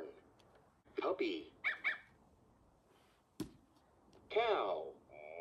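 A VTech Touch and Learn Activity Desk toy plays a few short electronic puppy barks and yips in separate bursts, close and clear, with a brief pause between them.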